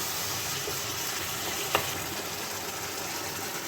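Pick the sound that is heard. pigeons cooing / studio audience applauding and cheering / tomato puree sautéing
tomato puree sautéing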